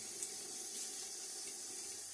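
Water runs from a tap during a wet shave, a faint steady hiss and splash into a sink that continues without break.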